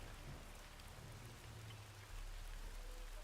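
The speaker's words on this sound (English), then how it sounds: "I think you can leave the rain." Steady rain weather effect in the Strange Old Worlds video game, a constant, even hiss of falling drops at moderate level with a low rumble beneath and no voices.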